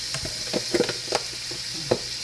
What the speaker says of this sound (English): So here I'm gonna add some butter to my pan. And I'm gonna be doing this on low heat.